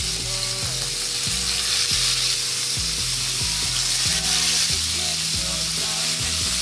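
Parshe fish frying in hot oil in a frying pan, a steady close sizzle running throughout with some clinks and scrapes of the pan, no voices.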